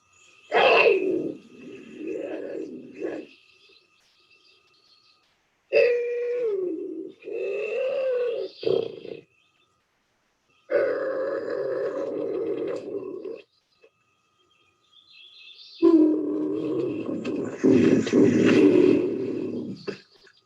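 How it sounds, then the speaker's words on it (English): A bobcat growls in sustained low, rough bursts separated by pauses, fairly close and loud, building to a harsher snarling stretch near the end, with no talk. "This is a growl."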